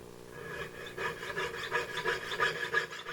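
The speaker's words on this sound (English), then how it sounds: "So now using a jeweler saw, I'll just cut these free of the sprue tree." A jeweler's saw cuts silver castings free of a sprue tree, giving a quiet, close rhythmic rasping of short back-and-forth strokes, steady and alone.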